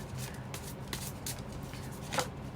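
A deck of tarot cards is shuffled by hand, giving soft, quiet riffling and slapping bursts close by in an irregular rhythm, with no talking over them.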